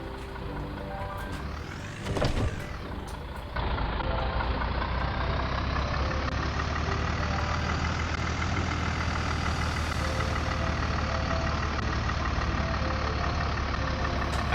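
A WW2 Willys Jeep engine in the Armored Front video game, revving briefly and then settling into a steady, loud drone while the vehicle drives on, with no voices.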